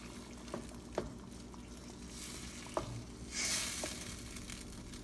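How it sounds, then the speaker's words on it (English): Pork binagoongan in coconut milk simmering in a pan, a faint steady sizzle and bubbling with a few soft clicks and taps. "we're gonna let this simmer for the next 5 or 7 minutes"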